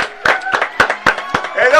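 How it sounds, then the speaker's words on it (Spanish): A handful of sharp, scattered hand claps from a small audience greet Egus Black, mixed with excited shouting voices, close and fairly loud over under two seconds. "vamos a recibir con fuerte aplauso a Egus Black"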